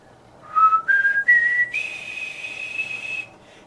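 A French horn teacher whistles a short rising run of clear pitched notes in four steps, the last note held steadily for over a second, close and alone with no talk.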